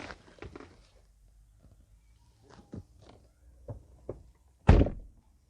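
A Porsche Cayenne 3.0 V6 diesel door shuts with one solid, close thunk near the end. Softer clicks and handling taps inside the cabin come before it.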